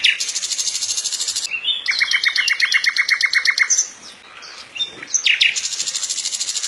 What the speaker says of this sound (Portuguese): Rouxinol comum.